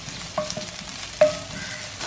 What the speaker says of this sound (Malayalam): ഈ സവാള ഇതിലേക്കിട്ട് വഴറ്റി കൊടുക്കാം